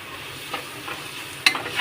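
Vegetables frying in oil with turmeric and pav bhaji masala for veg pulao, a steady soft sizzle with scraping stirs and a sharper spatula clatter near the end.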